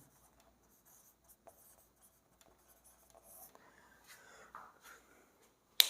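A pen writes on paper close by, with faint scratchy strokes that come and go and grow a little busier toward the end, ending in a sharp tap.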